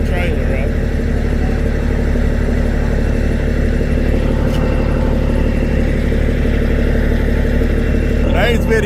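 A truck engine idles steadily with a low, constant rumble while a hog trailer is hooked up on a Tennessee property hauling oak and hickory, with a brief clank near the end.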